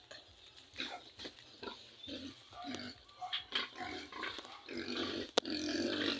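Pigs on a backyard pig farm grunt and squeal at feeding time, a busy close chorus of snorts and oinks with clanks of feed or a pen mixed in.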